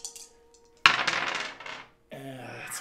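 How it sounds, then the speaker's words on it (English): Two dice dropped onto a table, a sharp clattering impact followed by rattling bounces that fade, then a brief clinking ring. "You just dropped two dice."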